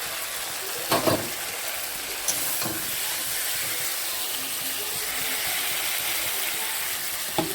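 Fried leta fish goes into hot, oil-separated spiced masala, setting off a steady, even sizzling hiss that runs throughout, with a couple of brief clinks near the start.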